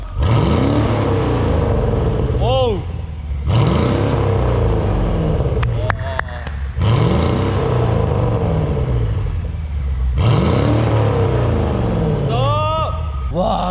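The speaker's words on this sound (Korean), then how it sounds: "리모컨으로 가변 배기를 열었습니다 가변 온 상태고요 배기 소리 들어볼게요" A Mercedes S550 with a tuned valved exhaust, valves held open by remote, roars in repeated loud revs, each climbing and falling back to a deep rumbling idle, close by.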